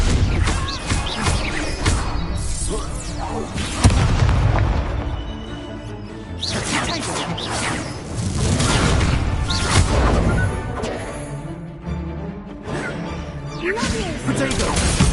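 Stupefy spell cast and its impact in Hogwarts Legacy, loud whooshing casts and crashing hits repeating throughout amid a busy stream of other spell effects and combat noise.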